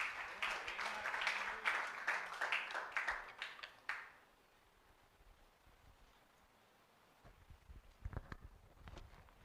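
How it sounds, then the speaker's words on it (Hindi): Church congregation applauding to welcome a speaker at a youth Sunday service, several seconds of steady hand clapping that fades out into quiet room tone, followed by a few scattered taps. "आइए हम तालियों के साथ हमारी बहन निशी का स्वागत करें"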